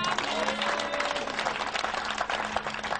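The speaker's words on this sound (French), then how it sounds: "Acclame Jésus-Christ de Nazareth" Crowd at a French-language evening prayer vigil applauding to acclaim Jesus Christ, dense steady clapping with cheering voices throughout, loud and close.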